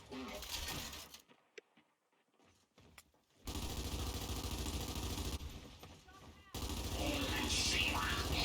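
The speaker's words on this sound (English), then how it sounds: "it's a bloody firefight in the middle of the map" Gunfire from a video game firefight in the middle of the map, including shotgun blasts, rattles in dense bursts that drop away briefly, then return loud and sustained, with a voice talking over it.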